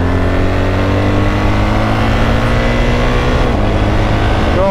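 A BMW R1300GS motorcycle engine accelerates on an open road, a loud, steady droning roar with rising tones, heard up close against wind rush and with no one speaking.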